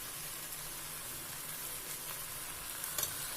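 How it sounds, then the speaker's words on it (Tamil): Ground ginger-garlic paste sautés in a pan for a Tamil brinjal kurma, a continuous close sizzle broken near the end by a couple of soft clinks from stirring. "அடி பிடிக்காம வதக்கணும்"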